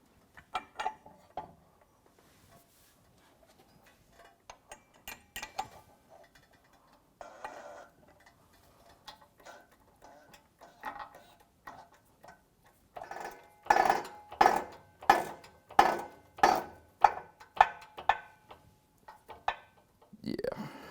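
Metal tapping on a socket to drive a part onto a Wiseco clutch unit during a 2005 Honda CRF450-R rebuild: scattered light clinks, then a run of about ten sharp, regular, close hammer strikes, with no talking.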